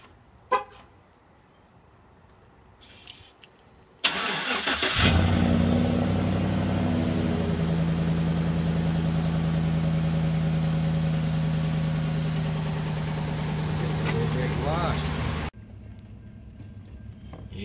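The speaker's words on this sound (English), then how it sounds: "start things off with a cold start of the Granule" A GMC engine cranks and catches on a cold start, then settles into a loud, steady idle that runs for about ten seconds before cutting off abruptly, with faint background noise before and after.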